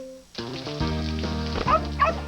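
A dog barks and yips in a cartoon TV promo, several short bright barks over background music, clear and close.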